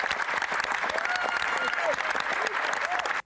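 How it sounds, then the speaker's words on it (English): Parliamentary applause fills the chamber: dense, sustained clapping from many members, loud and near, with faint voices mixed in, until it cuts off abruptly at the end. "Stop clapping for yourselves."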